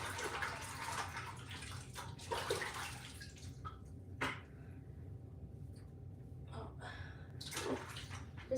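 Water runs and splashes as a marbling tray with three-day-old carrageenan size is rinsed off, a steady close wash with intermittent sharper splashes and tap-like surges, no speech.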